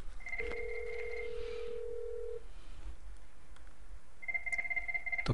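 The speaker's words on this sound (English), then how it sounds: "So what will happen is it's going to ring this phone as well." A desk telephone rings for an incoming call on a Cisco Unified Communications Manager 8.5 system: two electronic ring bursts with tonal beeps, separated by a pause, moderately loud over a steady room hiss with no talk.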